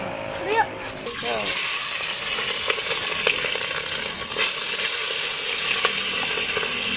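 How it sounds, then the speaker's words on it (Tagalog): Vegetables drop into a hot pan and erupt into a loud, continuous hissing sizzle that holds steady while being stirred, following brief voices just before. "Tapos, Haluin natin."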